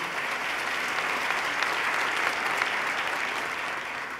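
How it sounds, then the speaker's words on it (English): Audience applause at the 2014 New York State of the State address, a dense, steady wash of many hands clapping at even loudness for the whole stretch. "Let's give him another round of applause, Mr. John Mack"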